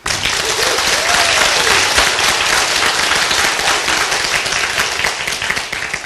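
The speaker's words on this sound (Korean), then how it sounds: "우리 상위 스폰서님들에게 기다려준 그 인내심에 감사의 박수" An audience at a corporate training lecture breaks into loud, sustained applause of thanks, a dense and even roar of many hands clapping close up from start to finish.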